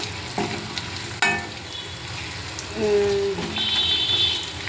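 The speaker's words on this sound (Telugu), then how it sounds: "ఫ్రై ఆనియన్స్ ఫ్రై చేస్తుండగానే ఒక గుప్పెడు జీడిపప్పుని వేసుకోండి" Onions frying with a handful of cashews added in a pan for mushroom curry, a steady close sizzle broken by scraping stirs and a sharp clatter of a spoon against the pan.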